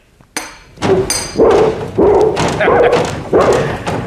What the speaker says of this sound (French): Tenez, écoutez le chien.